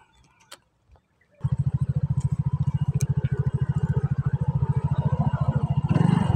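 A motorcycle engine starts up and settles into a loud, close, rapid idle with an even pulsing beat, preceded by a few faint clicks and knocks.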